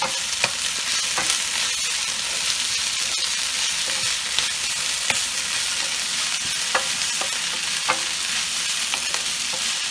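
Collard greens stir-fried in a pan with steady close sizzling and periodic utensil scrapes and taps, continuous for the whole stretch with no talking.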